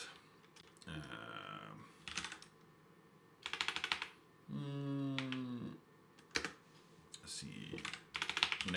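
Someone types a kubectl command on a computer keyboard in short bursts of close, crisp key clicks separated by pauses, with one longer stretch of rapid clattering typing.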